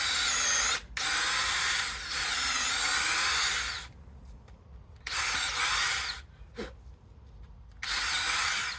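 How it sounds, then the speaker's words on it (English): A power drill whirs loudly in several long bursts into wood, pausing between runs, close by, with faint breathing and small handling noises in the gaps. "it's generally better just to drill the hole and then put them in and then seal it"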